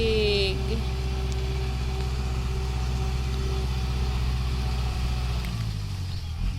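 A diesel engine drives a water pump drawing irrigation water from a creek for dry rice fields, a steady low idling drone running continuously and fairly close.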